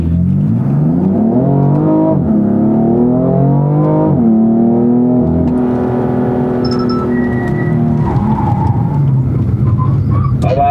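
A BMW M4 on the Bilster Berg race track brakes hard from high speed to a standstill in a corner, its loud engine tone winding down in steps before settling into a rough idle.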